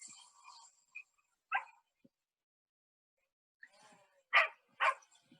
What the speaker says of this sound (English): In the background, you can hear my dog, Tommy Thomas, being very excited about this